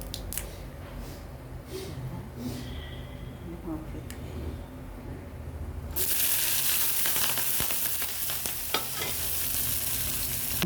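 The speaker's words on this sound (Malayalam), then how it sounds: "കടുക് പൊട്ടിക്കഴിയട്ടെ." Mustard seeds crackle and pop in hot oil with green chillies; the sizzling starts quietly under faint voices, then turns suddenly louder and denser partway through.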